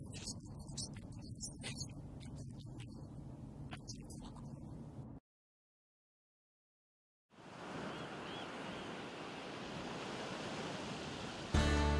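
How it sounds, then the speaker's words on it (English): Ocean surf on the Oregon coast, a broad steady wash of breaking waves that runs for several seconds, cuts to silence, then returns as a continuous roar with a clunk at the very end. "What draws you to the Oregon coast? Is it the green and blue surf on a brilliant sunny day"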